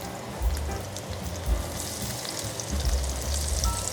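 Minced garlic and onion frying in olive oil in a home kitchen pan, a steady close sizzle with crackling spits and occasional low stirring bumps, heard alone without voices.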